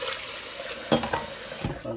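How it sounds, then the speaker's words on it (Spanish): A little water is poured into a blender jar after blending cantaloupe for a melon drink, a brief close splashing and gurgling pour. "Vamos a echarle poquita agua a la licuadora."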